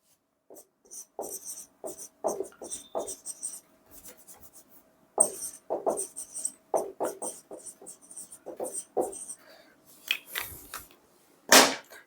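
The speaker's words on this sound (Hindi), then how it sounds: "तो डेफिनेशन लिखूं क्या, चलो लिख देता हूं" Pen or marker writing out a chemistry definition on a board or paper, with scratchy strokes in short irregular bursts and pauses, close and clear without speech, ending in a louder scrape.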